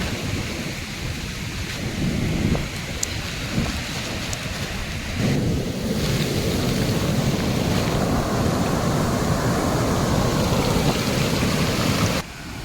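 Heavy wind and rough sea waves at a fishing coast in the rainy season, a loud, steady roar of broadband noise that intensifies midway and cuts off abruptly near the end, with no talk.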